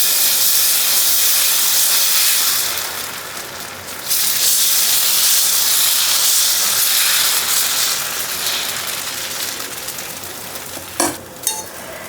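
Pearl millet dosa batter sizzles on a hot griddle: a loud, steady hiss and crackle that softens slightly partway through, then two brief sharper bursts near the end.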